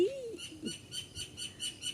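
A small sparrow in a tree gives a faint chirp, followed by a soft, rhythmic series of high twittering notes repeating about every quarter second, with outdoor ambience.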